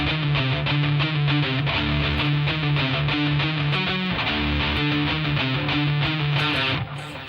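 A loud, close electric guitar with heavy distortion plays a metal rhythm section, a driving chugging riff with steady repeated low notes that fades slightly at the very end.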